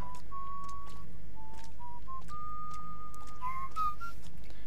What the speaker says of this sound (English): Having a lovely little whistle up there